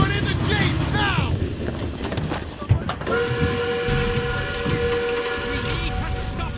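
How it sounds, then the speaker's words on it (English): A train in the Call of Duty WWII video game rumbles loudly and steadily, and a sustained whistle-like tone enters halfway through, with shouting voices over the noise. "Trains are coming down!"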